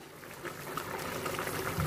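Egg gravy bubbles steadily under a lid in a pan, a dense, continuous simmering burble heard close up with no talking.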